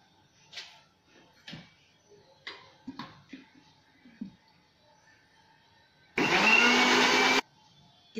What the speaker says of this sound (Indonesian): Ini di blender sampai esnya tidak terdengar.